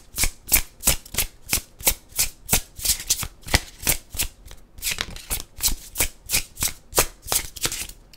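Steady rhythmic riffling of a Fear Nothing Oracle card deck being shuffled, roughly three crisp bursts per second, close and clear with no voices.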